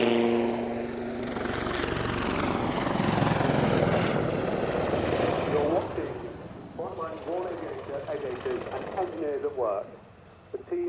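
A military naval helicopter at an airshow gives off a loud, sustained rotor and engine roar that shifts in pitch as it passes. A public-address announcer talks over it, and the aircraft noise fades somewhat toward the end.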